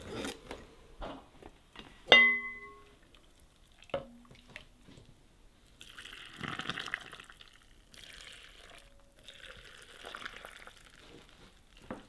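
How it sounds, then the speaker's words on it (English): Hot brine is poured over garlic scapes and dill in canning jars, with a bright clink of glass followed by splashing, gurgling liquid filling the jars in several bursts, moderately close and alone. "our brine is hot, so we're gonna get it poured over."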